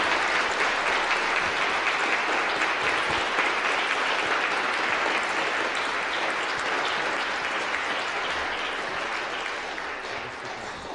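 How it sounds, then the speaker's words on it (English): A campus audience gives a sustained round of applause at a book conversation event, dense even clapping throughout that tapers slightly toward the end, with no one talking over it. "could we please now just give a round of applause for our audience?"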